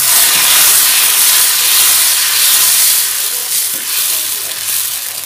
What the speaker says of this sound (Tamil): இப்போ கல் சூடாயிடுச்சு, நம்ம தோசை ஊற்ற ஆரம்பிக்கலாம்.